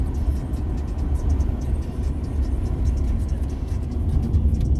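Nissan Ariya electric car accelerating hard on the Montlhéry circuit, a steady low rumble of road and tyre noise with a faint motor whir, continuous and close inside the cabin.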